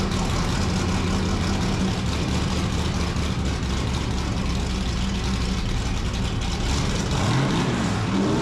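A 1955 Chevy gasser race car engine idling steadily with a heavy, rumbling low end, close and loud throughout, with a slight rise in revs near the end and no voices.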